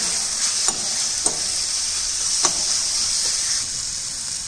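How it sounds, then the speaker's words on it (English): Chopped tomatoes sauté in hot oil, giving a steady loud sizzle with a few sharp spoon scrapes and clicks against the pan, no voices. "Lightly saute in oil, then add chopped tomatoes and cook till tomato get mashed."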